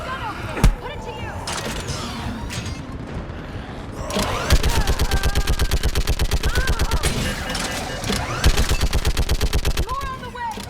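Sustained rapid automatic gunfire from a mounted gun in Mass Effect Legendary Edition during the fall of Thessia, loud and close, with a scattered opening burst, then steady fast rhythmic volleys, a heavy boom near the start and game voices underneath.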